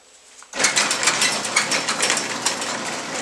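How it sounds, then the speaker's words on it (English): An automatic garage door opener grinds and rattles steadily after an abrupt start, its chain-and-gear clatter loud and close with a ratcheting texture throughout. "You triggered the garage door, huh?"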